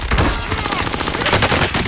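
Gunfire in Call of Duty Warzone, a loud, rapid burst of automatic shots rattling continuously and close.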